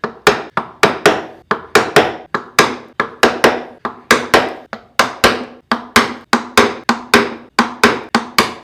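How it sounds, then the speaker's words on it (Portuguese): A mallet drives a chisel held upright into wood while carving letters, giving a steady series of sharp, close knocks, roughly three per second, with no speech. "Agora eu vou bater com o formão em 90 graus para cortar essas partes que já foram"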